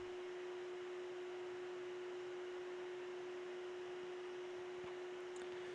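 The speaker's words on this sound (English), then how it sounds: "it sounds like this is the max fan speed that it's going to be going at" The cooling fan of a Zhiyun G300 video light runs at maximum speed, a steady airy whir with a constant tonal hum, unchanging and fairly quiet.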